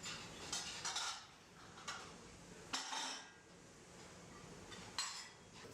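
Dishes and cutlery clatter in a busy café washery as plates and pieces are stacked and handled, sharp clinks and clunks arriving in irregular bursts over a low background hum.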